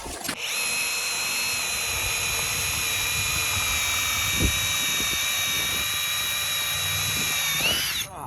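Power tool tightening a carriage bolt with a split lock washer on a deck post, a loud steady high-pitched whir running almost continuously for about seven seconds before winding down at the end.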